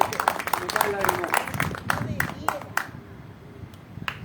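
Scattered hand claps from a small audience at a book presentation, a brief uneven burst of nearby claps that thins out after a few seconds, with voices talking underneath.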